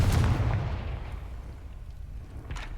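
Confringo fire spell in Hogwarts Legacy, a sharp explosive blast that booms at once and then fades into a rumbling tail, with a faint crackle near the end.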